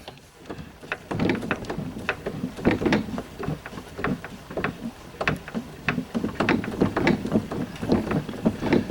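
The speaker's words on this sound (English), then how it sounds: "Takes a long time to wind these up." Crank of a Decca Salon 105 portable gramophone being wound, a steady run of rhythmic clicking and ratcheting from the spring mechanism, close and continuous with no talk.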